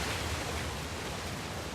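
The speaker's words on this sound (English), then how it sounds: "Another waterfall." A waterfall in the video game Uncharted: The Lost Legacy roars as a dense, steady wash of rushing water that fills the whole stretch at an even, loud level.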